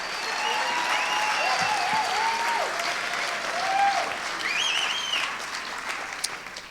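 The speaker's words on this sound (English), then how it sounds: "So, without further ado, a big round of applause for Paul and David and Gimme Truth" Steady applause from a film festival audience fills the room, continuous and fairly loud, with a few higher shouts or whistles rising over the clapping.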